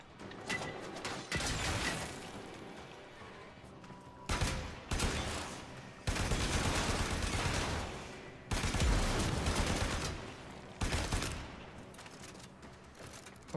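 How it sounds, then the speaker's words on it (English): A sentry turret in Warframe fires in repeated sustained bursts of rapid automatic shots, each volley lasting one to two seconds with short pauses between, loud and close over a quieter game background. "Oh, it's a sentry turret."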